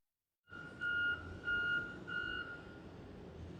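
A plow truck or forklift working a flood cleanup on the Maine coast sounds three evenly spaced reversing beeps, clear and moderately loud over faint outdoor background rumble.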